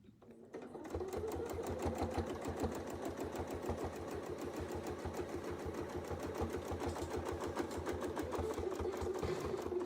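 A sewing machine stitches continuously in a fast, even rhythmic chatter while quilting a design guided by a Westalee circle ruler, starting up after a brief quiet moment and running steadily to the end.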